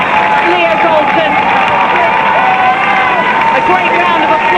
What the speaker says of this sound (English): A great round of applause for Leo Golden as she comes on for her last home game as a Manchester United player